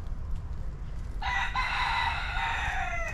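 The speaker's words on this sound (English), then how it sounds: "Rooster's coming back for the show" A rooster crows once at close range, a single drawn-out call that starts partway through and carries to the end over quiet outdoor background.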